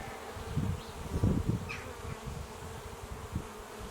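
Honeybees buzz softly and continuously during a spring inspection of a hive or nuc, with a few closer swells of wingbeat drone rising and fading over quiet background.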